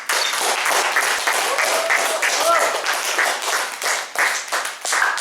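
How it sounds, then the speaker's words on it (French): A theatre audience at an improv comedy show clapping in sustained, dense applause, loud and close, filling the whole stretch with some cheering voices mixed in. "On les applaudit."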